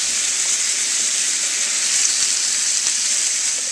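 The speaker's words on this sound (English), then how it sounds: "then start to cook your beef." Ground beef frying in a pan with sautéed garlic and onion gives a steady, close hiss and sizzle, with faint stirring clicks and no talk.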